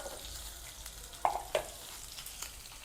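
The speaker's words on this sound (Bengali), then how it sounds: "পেঁয়াজটা হালকা ভাজা হয়েছে" Chopped onion lightly browning in oil for a Bengali rohu fish curry, a quiet continuous sizzle with a few sharp spatula scrapes and taps against the pan, close up.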